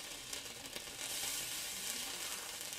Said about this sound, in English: I had dipped this in water previously, which is why it's sizzling